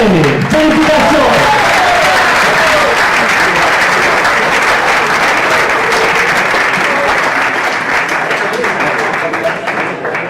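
Loud, sustained applause at a youth hockey awards night as a player is called up, a dense crowd clapping continuously for about ten seconds, with a few voices briefly audible at the start.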